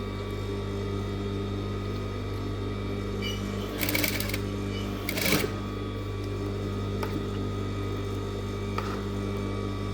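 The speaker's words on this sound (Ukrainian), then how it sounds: "Припуск направили до спинки і виконуєте строчку далі." Sewing machine stitching the hem of a blouse, a steady low mechanical hum running throughout with two brief louder bursts of faster stitching near the middle, close and moderately loud with no talk.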